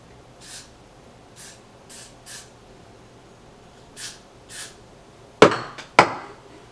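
Two short, sharp hissing sprays of extra-hold hair spray near the end, close and fairly loud, after several soft faint brushing sounds in a quiet room.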